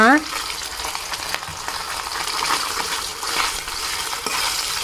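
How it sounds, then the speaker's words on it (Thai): Minced pork stir-fries in a hot pan for a dry-style holy basil stir-fry, with a steady loud sizzle and crackle throughout after a brief clink at the start. "เราจะนำหมูลงไปลวนก่อนนะคะ ลงลงไปผัดก่อนค่ะ"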